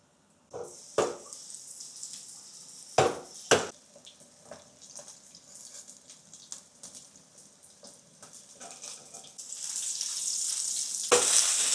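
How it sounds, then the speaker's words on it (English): Tofu fries in oil in a non-stick pan, giving a steady sizzle that swells toward the end, broken by several sharp pops and clatters of the pan and utensils. "heat some oil in a non-stick pan to fry the tofu until crispy"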